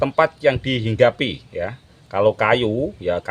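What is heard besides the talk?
No everyday noise stands out behind the speech.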